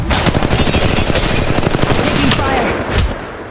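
Rapid bursts of automatic gunfire from the mobile battle royale game Apex Legends Mobile, loud and dense with close repeated shots and a brief lull near the end, with faint game voice lines underneath.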